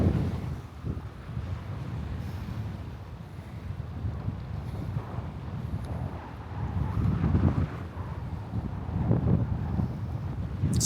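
Strong wind roars and buffets the microphone in heavy, rumbling gusts that rise and fall throughout, by an old loading ramp in Montevideo, Uruguay.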